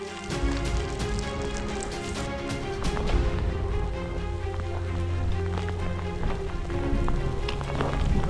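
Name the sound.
hail falling during a mountain hike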